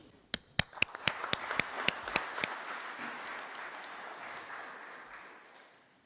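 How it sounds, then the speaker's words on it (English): Several sharp, separate hand claps ring out in a reverberant hall at a conference event, then blend into a softer wash of clapping that slowly fades away. "Now I'd invite you to give a warm round of applause to Thibaut Mercier"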